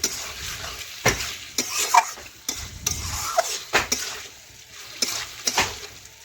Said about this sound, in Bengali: এইভাবে বেশ কিছুক্ষণ ধরে নাড়াচাড়া করতে করতে দেখুন অনেকটাই চিকেন রান্না হয়ে গেছে।